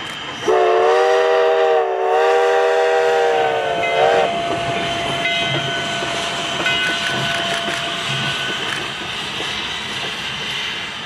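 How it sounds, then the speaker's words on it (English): A Virginia & Truckee steam locomotive running light toward the shops sounds a loud multi-tone steam whistle for several seconds, then keeps hissing and chuffing steadily nearby. "the locomotive runs light back toward the V&T shops for servicing"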